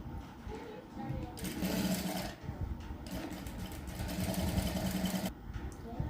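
A sewing machine double-stitching the sleeve of a blouse runs in two steady, humming bursts with a brief pause between them, close and fairly loud, while someone talks over it.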